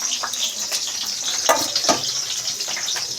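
Thick-cut slices frying in hot oil in a home kitchen, a steady close sizzle with a few sharper crackles and spits near the middle, no voices.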